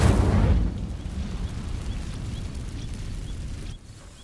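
Incendio fire spell cast in Hogwarts Legacy: a loud, close whooshing burst at the start that fades into a low rumbling crackle, with faint ambient game sounds behind.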